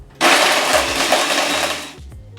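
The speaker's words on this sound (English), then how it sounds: "I'm going to blend it up. And let's watch the blender in action." Ninja Professional BL 740 blender whirring through avocado and green mint gelato ingredients, a loud, steady, close motor roar that starts abruptly and cuts off after about two seconds, with no talking.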